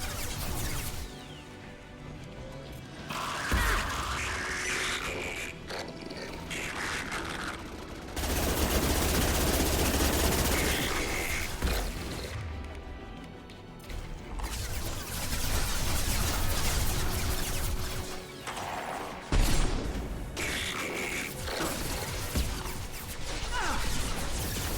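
Sustained gunfire from the Mass Effect video game, dense automatic bursts and impacts pounding an enemy almost continuously, loud and close with brief lulls between volleys and no talking.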